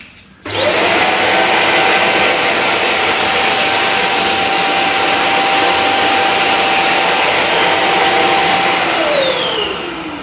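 An Inalsa Ozoy Premium vacuum cleaner sucks up rice grains, its motor switching on and holding a loud, steady whine with a faint pitch drop near the end, no voices.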